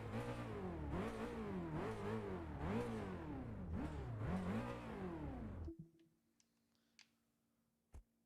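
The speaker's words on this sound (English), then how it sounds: "You can hear the turbo noise." Engine revving with turbo whine in the racing game Test Drive Unlimited 2, a loud rising and falling harmonic drone repeating in several surges for about six seconds, then cutting to near silence with a few faint clicks and one sharp tick.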